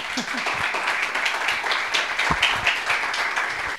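Live podcast audience applauding for several seconds, a steady dense patter of claps with a few voices mixed in.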